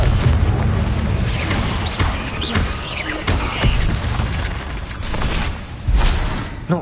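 Confringo spell blasts in Hogwarts Legacy during a fight with a giant spider: loud, booming explosive bursts in quick succession over a dense, rumbling battle din, several sharp hits standing out against the constant roar.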